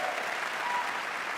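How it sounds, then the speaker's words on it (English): A brief, dense burst of audience applause at The Game Awards, steady clapping from a large crowd filling the hall without letup. "So please, a round of applause for our amazing devs."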